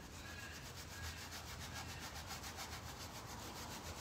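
Burnt sienna paint being rubbed into a wooden sideboard to add grunge, heard as a steady, faint scrubbing and rubbing texture that runs continuously without pauses and without talk.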